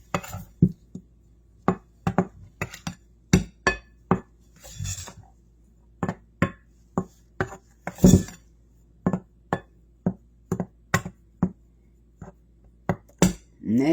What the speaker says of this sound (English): So now we're going to give this a stir to mix it up well